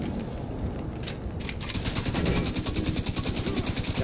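Rapid automatic gunfire hits a big boss enemy in The Division 2 video game's D-Day mode: a loud, sustained stream of evenly spaced shots, close and dominant, with almost no talk.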